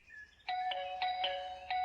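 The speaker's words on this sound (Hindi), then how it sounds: "और घंटियां बजी जा रही हैं, देखता क्यों नहीं?" A doorbell chimes repeatedly in a home, clear ringing tones recurring about every quarter second in a steady run of ding-like strikes, fairly close and alone without talk.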